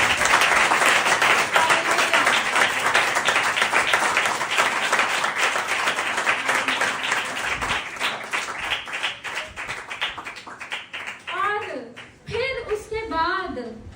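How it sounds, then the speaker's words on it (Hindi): A church congregation claps loudly and steadily through a Hindi-language sermon, the applause thinning toward the end as a woman preacher's voice rises over the last few seconds. "ये तालियां आपकी बड़ी छोटी हैं उस कुर्बानी के सामने।"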